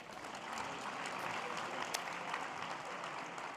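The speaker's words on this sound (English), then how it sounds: "Just another quick round of applause for these guys." A crowd claps steadily, a dense patter of applause that stays even and fairly soft throughout.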